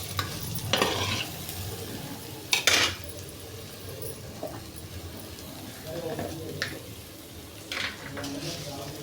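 Carrot chutney with tomato pieces is stirred in a pan, with a soft sizzle underneath and several sharp clinks and scrapes from the spoon against the metal, while a voice talks over it.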